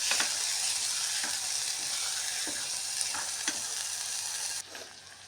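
Soaked moth beans (matki) sauté in onion-tomato gravy, giving a steady, close sizzle with soft stirring scrapes throughout and no talking.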